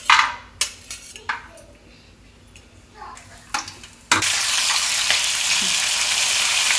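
Cashew nuts dropped into hot ghee and oil in a home kitchen for masala rice, bursting into a loud, steady, hissing sizzle after a few seconds of clatter and brief talk.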